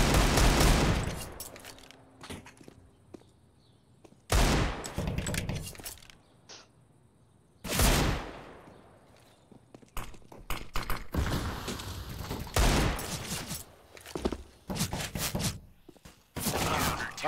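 Bursts of gunfire in Counter-Strike during a competitive match, sharp loud volleys recurring every few seconds with brief quieter gaps and clattering in between, with no talk over the shots.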